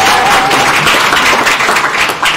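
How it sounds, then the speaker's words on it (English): A university event audience claps together in a dense, continuous wash of hand claps, fairly loud and close, with a faint tone underneath. "We all clap for each other"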